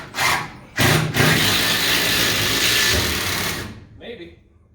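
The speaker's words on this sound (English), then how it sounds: "I'm just gonna run a couple of these self-tappers through a piece of 3/4 inch." Self-tapping screws driven into a 3/4 inch board with a power driver: a long, steady whirring grind lasting several seconds after two short bursts, close and fairly loud, ending with a faint tail.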